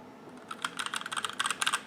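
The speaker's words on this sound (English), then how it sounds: "Look at this keyboard go." Fast, crisp typing on a clicky USB or wireless keyboard during Windows setup on a budget Ryzen 5 3600 and GTX 1660 PC build, a dense run of sharp key clicks that starts sparse and speeds up, close and alone.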